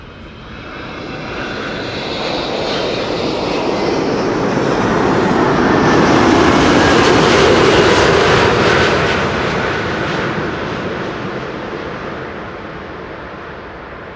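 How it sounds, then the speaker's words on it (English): A wide-body Emirates Airbus A380 passes over Schiphol airport as it comes in to land. Its jet engines make a loud, broad roar that swells to a peak midway and then slowly fades, with no voices. "Emirates flight 147 arriving from Dubai with an additional lap around the block."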